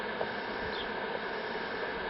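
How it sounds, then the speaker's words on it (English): Bees swarm around an opened honeybee hive during a hive inspection, making a steady, dense buzzing drone that stays close and continuous throughout with no talk. "We've got bees all over me trying to bite me."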